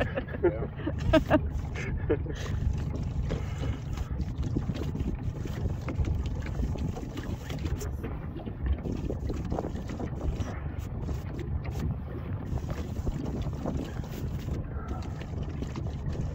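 Breeze blowing over Klamath Lake at Rocky Point during a trout fishing trip: a continuous low rumbling buffet against the microphone with scattered knocks and rattles from a boat, fairly loud and unbroken throughout.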